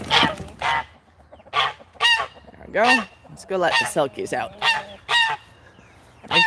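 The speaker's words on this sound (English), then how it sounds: "Excited goose." An excited goose honks in a run of loud, close, repeated calls around a backyard chicken coop, with a person speaking briefly among the honks.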